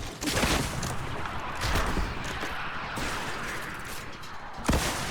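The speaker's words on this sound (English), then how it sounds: "Teams shooting rockets on everybody, trying to break cover." Rockets and gunfire in a team shooter video game: a dense, continuous barrage of blasts and crashes at steady loudness, with a sharp louder burst near the end and no talking.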